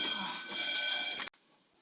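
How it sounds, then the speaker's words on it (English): A fire alarm rings briefly, a harsh buzzing-bell tone heard from a short distance for about a second before stopping abruptly, with no talking during it. "That sounds like a fire alarm."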